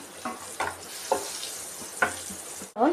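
Green chilies frying in a small amount of hot oil with a pinch of turmeric, a steady close sizzle broken by several brief scraping stirs of the pan, no voices.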